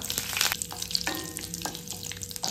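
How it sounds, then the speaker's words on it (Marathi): Mustard seeds crackling and popping in hot oil, a busy frying sizzle with scattered sharp pops and an occasional scrape, close by with no talking. "मोहरी आता तडतडली"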